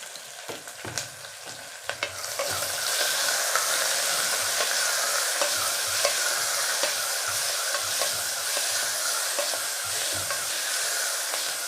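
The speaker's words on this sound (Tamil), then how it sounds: "அந்த வெங்காயத்தை இதில் போட்டு நல்லா வதக்கலாம்." Sliced onions sauté in a hot pan with a steady, close sizzle that swells after the first couple of seconds, punctuated by light scraping and stirring ticks throughout.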